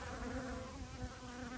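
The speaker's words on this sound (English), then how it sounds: "These are actual Apis mellifera honeybees." Apis mellifera honeybees buzz steadily around a lid, a continuous close, moderately loud hum with a strong drone tone and no voices.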